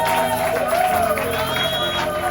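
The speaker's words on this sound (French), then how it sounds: "Aide-moi avec vos cris, vos applaudissements pour la gloire de Dieu" A church congregation at a Sunday service cheers and applauds, a dense, steady wash of clapping and voices filling the room, with shouts rising over the crowd.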